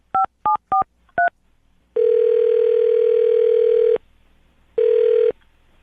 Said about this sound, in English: I'm going to dial her phone number right now, get her on the phone